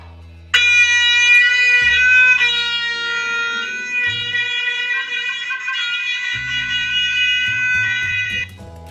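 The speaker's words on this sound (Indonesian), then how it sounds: "Kemudian bunyi terompet." A single loud, sustained brassy horn note blares steadily for about eight seconds, then stops abruptly.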